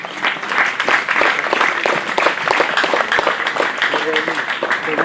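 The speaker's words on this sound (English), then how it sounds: "Let's give him another round of applause" Crowd applause at the 3rd Micronesia Expo on Chuuk Day, dense steady clapping filling the whole stretch, fairly loud, with some voices mixed in underneath.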